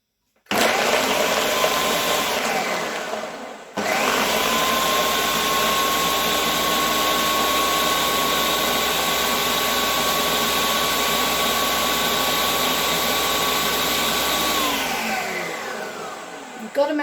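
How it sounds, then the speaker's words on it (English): A blender whirs loudly as it blends vegan mozzarella ingredients, running in a continuous high-pitched roar that cuts out briefly near the start, restarts and holds steady before stopping. "Got to make sure it's all blended."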